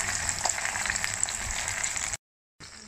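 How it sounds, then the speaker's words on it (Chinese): Yuba tofu skin rolls stuffed with mushrooms pan-fry in hot oil, giving a steady close sizzle and crackle that cuts out briefly before resuming. "煎到两面金黄酥脆就可以了。"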